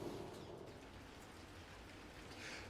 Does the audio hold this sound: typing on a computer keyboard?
no